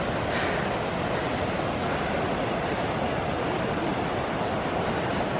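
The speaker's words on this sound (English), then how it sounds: "Hear the river down there." The Klein River rushes below a hiking trail, a steady broadband roar of flowing water that stays constant and fairly loud, with no talking.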